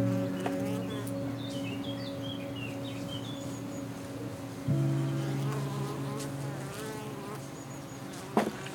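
Honeybees from an amateur beekeeper's hives in the Pays d'Auge countryside buzz in a steady, layered drone with a shift in pitch midway, joined by faint bird chirps in the background.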